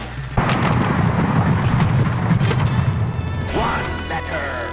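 A sharp booming blast from a cannon in a pinball video game, followed by rumbling and crashing game sound effects, with a brief electronic whoosh near the end.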